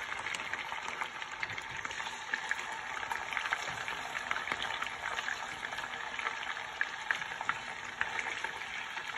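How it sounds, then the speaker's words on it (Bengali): Koi fish pieces frying in a generous amount of oil, a steady close sizzle with crackling pops running throughout, no talking. "একটু বেশি তেল দিছি। তো আমি মাছগুলো এখন দিলাম। কই মাছ"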